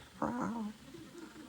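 A human voice imitates a female cat with a short, drawn-out meow-like wail that rises and bends downward, followed by softer trailing murmurs, fairly faint and close.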